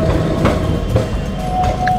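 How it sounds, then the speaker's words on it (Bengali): A decorated heritage tram pulls into the Esplanade terminus in Kolkata, a steady low rail rumble with light clatter and a faint high tone running through the two seconds, close by and continuous. "একটি সুসজ্জিত ট্রাম এসে দাঁড়ালো আমাদের সামনে।"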